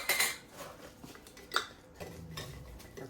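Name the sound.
cooked beef pieces being put into a glass mason jar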